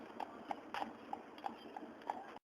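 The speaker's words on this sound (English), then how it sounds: "You see a little horse, a horseman right there." Horse hooves clip-clopping at an even walking pace, moderately close, against a low murmur of outdoor street noise.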